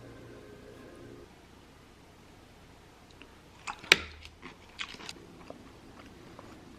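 Crispy fried fish bitten near the microphone: a quiet lead-in, then one sharp crunch followed by several smaller chewing crunches, close and fairly faint.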